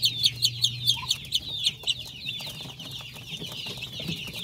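Native darag chickens cluck and chirp in a backyard, with rapid repeated calls that are loudest in the first two seconds and then turn softer and more scattered, with faint background noise and no speech.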